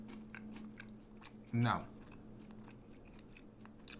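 A single loud crunchy bite into Texas toast cheese bread pizza baked at 350 degrees, followed briefly by chewing, close up amid a low steady background hum with a voice speaking briefly.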